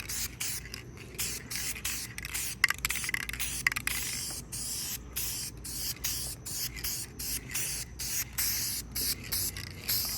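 Spray can laying light coats of paint on a Honda, a series of short hissing bursts with brief pauses between them, close and steady with no talking.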